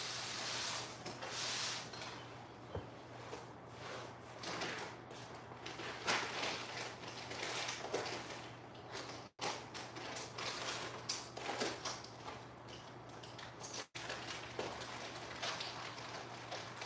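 Hands rummaging through a bag of nuts and bolts for a 3D printer build, with steady crinkling, rustling and rubbing up close, a few faint metallic clicks, and a constant low hum beneath.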